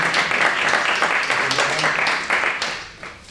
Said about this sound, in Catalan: me podeu aplaudir